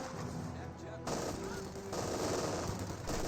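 Machine gun bursts crackle in a Company of Heroes 2 match between British and German Wehrmacht forces, with several short rattling volleys while a commentator talks over the battle.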